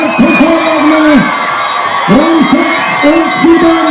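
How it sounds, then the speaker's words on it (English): Spectators at a cross-country ski mixed relay finish in Goms cheer loudly and steadily, their roar joined by shouts and whoops, with a voice speaking over the crowd throughout. "So huge cheer for Switzerland's Nadine Feindrich coming in to take 6th place"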